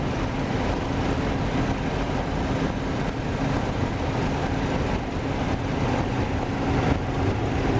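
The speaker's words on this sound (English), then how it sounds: "It's very windy out here." Strong wind buffets the microphone on a boat trip, a continuous loud rumbling roar with low engine-like drone and water underneath, steady throughout without speech.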